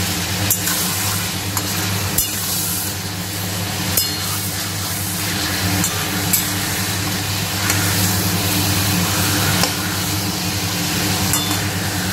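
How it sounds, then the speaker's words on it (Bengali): Chicken seasoned with salt and black pepper fries in a pan, giving a steady, dense sizzle with occasional stirring clicks over a low constant hum; no one speaks. "চিকেনটা কিন্তু ভাজা হয়ে গেছে"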